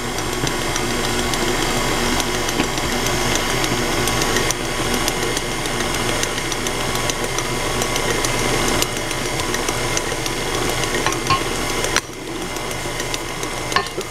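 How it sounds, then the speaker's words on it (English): A KitchenAid stand mixer kneads Kaiser roll dough on speed 2, giving a loud, steady motor drone with a rhythmic knocking churn that runs throughout, with no talk. "I just have this on 2 on the KitchenAid"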